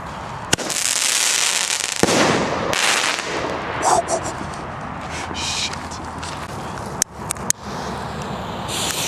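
Large airbomb fireworks explode outdoors in a string of loud, sharp bangs with crackling bursts and hissing between them, several blasts close together over a noisy background.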